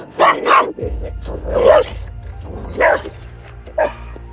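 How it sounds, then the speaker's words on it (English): A dog barks aggressively at a rider on an electric pit bike out on open acreage, four or five loud, close barks in an uneven rhythm, with a low engine-like rumble underneath. "That dog is terrifying."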